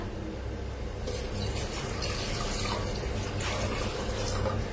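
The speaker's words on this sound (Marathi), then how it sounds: "आता हे सगळं पाणी वतून घेऊया ह्याच्यात" Water pours continuously into a metal pot, a full rushing splash that holds steady throughout at close range.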